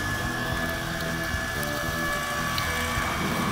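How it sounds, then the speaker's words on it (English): Vacuum tumbler rotating seasoned beef jerky meat, a steady mechanical rumble with irregular clicking and clattering throughout, close and continuous, with no talk. "after the vacuum is set, we start the tumbling process, which ensures that all of the meat is thoroughly seasoned"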